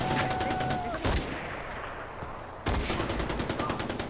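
Gunshots ring out in Far Cry 4, loud rapid reports layered over a dense game soundscape, with a brief lull before the firing resumes just as hard.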